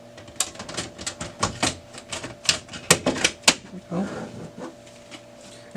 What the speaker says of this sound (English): you're going to reinstall your toner